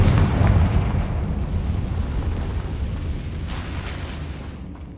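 A Confringo fire spell blasts in Hogwarts Legacy, a loud, rumbling explosion with a sharp onset that rolls into a long, dense roar, slowly fading over several seconds with no talking.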